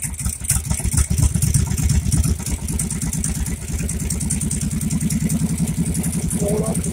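Suzuki Intruder 1500 motorcycle engine, started cold and idling, is revved up a little; a steady, loud, close pulsing engine note holds throughout with no talk over it.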